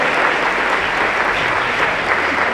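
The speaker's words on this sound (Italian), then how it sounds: "Un grande applauso, perché penso che se lo meritano." Steady audience applause fills a cycling award ceremony, a dense continuous clatter of many hands at close range with no voices on top.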